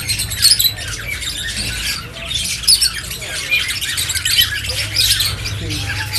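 Pigeons and parrots in a crowded bird shop keep up loud, overlapping squawks and shrill chirps, near and continuous, over a low background hum.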